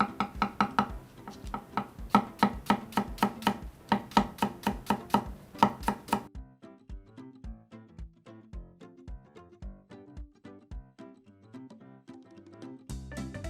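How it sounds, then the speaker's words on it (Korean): Knife chopping green onion (daepa) on a cutting board, a fast run of sharp, evenly spaced cuts followed by a steadier series of softer chops, close and clear with no talking. "이제 대파를 먼저 썰겠습니다"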